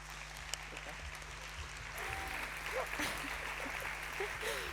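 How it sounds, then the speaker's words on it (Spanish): An audience applauds a woman introduced before her talk about women astronauts, soft and fairly distant clapping that swells after a couple of seconds, with faint voices murmuring underneath. "Pues un fuerte aplauso para ella."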